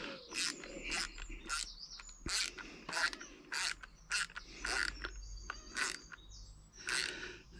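Nut being tightened by hand on an aluminium Yagi antenna: a series of sharp, close metallic ratcheting clicks and squeaky scrapes in irregular bursts, with no talking.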